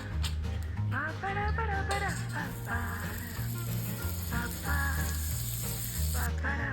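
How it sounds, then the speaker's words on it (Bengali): Chopped onions frying in butter in a pan, a soft sizzle under background music with bright melodic notes and a steady bass line. "প্রথমে বাটার দিলাম, তারপর কেটে রাখা পেঁয়াজগুলোকে দিয়ে দিলাম"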